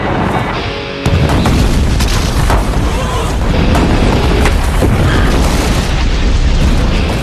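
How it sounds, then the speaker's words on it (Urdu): Cannon fire breaks through part of Jerusalem's city wall during Saladin's siege: a sudden heavy boom rolls into a loud, sustained rumble of crumbling and echoing blasts. "صلاح الدین کی ایک توپ نے جروسلم کی دیوار کا ایک حصہ گرا دیا"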